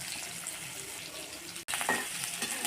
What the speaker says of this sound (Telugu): మీడియం ఫ్లేమ్లో పెట్టి వేయించుకోవాలండి